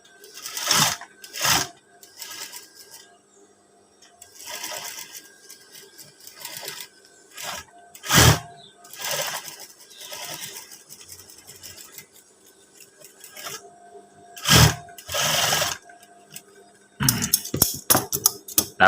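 A sewing machine stitches fabric for a teacher's uniform with a PKK-style collar, sounding as short rapid bursts of clattering needle strokes separated by quiet pauses, close and fairly loud.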